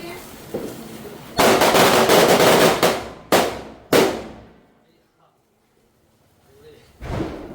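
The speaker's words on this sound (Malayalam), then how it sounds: "കഴിഞ്ഞില്ല പടക്കം." Firecrackers set off at a home celebration crackle in a loud rapid burst, then two sharp single bangs follow, and after a quiet pause a final crack goes off nearby.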